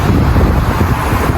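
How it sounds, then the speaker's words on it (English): Strong wind buffets the microphone on the Sydney Harbour Bridge in one loud, continuous low roar without a break. "it's very windy again"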